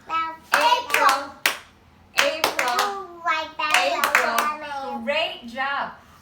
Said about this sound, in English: we're going to clap this out 3 times